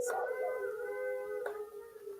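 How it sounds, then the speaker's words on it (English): Dogs howl at night, a long sustained wavering howl that swells, breaks briefly and resumes, fairly close and clear over a quiet background. "the dogs are howling tonight"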